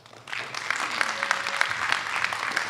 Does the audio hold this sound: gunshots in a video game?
no